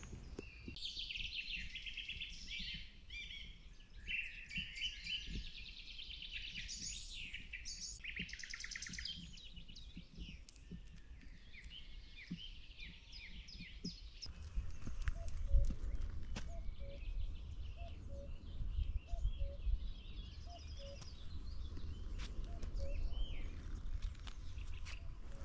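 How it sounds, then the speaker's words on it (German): Birds call and sing at sunrise beside the Mittelland Canal, a busy chorus of chirps that thins partway through, giving way to a lower rumble with faint, sparse calls over it. "ich wollte unbedingt auch mal den Kuckuck mit aufs Video nehmen, auch wenn man ihn nur so ein bisschen hört"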